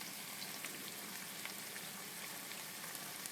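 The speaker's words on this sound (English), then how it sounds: "Our onions have been frying for 2 minutes, so now in goes the tomato." Onions and tomato frying in a pan for a Cornish hen dry masala make a soft, even sizzle with faint crackles, steady and quiet throughout, with no voices.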